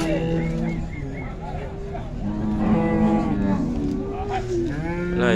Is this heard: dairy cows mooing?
yes